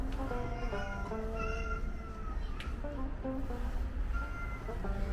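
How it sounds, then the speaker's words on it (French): Several cats meow repeatedly at a monastery in Istanbul, short overlapping mews at a moderate distance against steady background hum, with no talking. "En tout cas, c'est la maison des chats."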